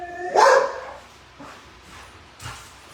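A pet dog gives one sharp, close bark indoors, followed by a few softer yips and whines, with no talking.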